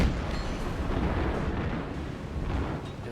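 Warship guns booming in the naval video game World of Warships, a rumbling low-heavy barrage with dull blasts and rolling echoes, fairly loud and dense without talk.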